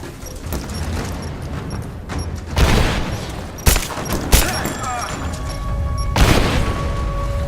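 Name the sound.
grenade explosion and gunfire in Rise of the Tomb Raider video game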